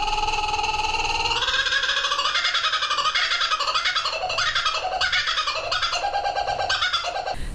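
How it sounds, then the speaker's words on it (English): Laughing kookaburras at a Tasmanian wildlife sanctuary let out a loud, close, rolling chorus of cackling, hooting calls that rises and tumbles for several seconds without a break. "they're called the laughing kookaburra, but we actually thought that they were a monkey bird because when they do their call, they sound like crazy monkeys"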